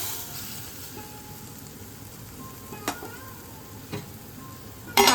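Okra and prawn masala frying in a pan after a little water is added, a faint steady sizzle and hiss with a couple of soft clicks and a louder rattle at the end.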